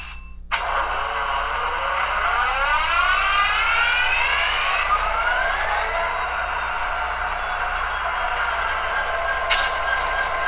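EMD-2 prime mover on a model locomotive with a Tsunami2 sound decoder cranking and starting up, its whine rising in pitch then settling into a steady idle drone, close and loud with no talk.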